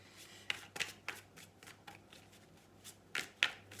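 Cards riffle and snap in several quick bursts, close and crisp, with short pauses between shuffles and no talking.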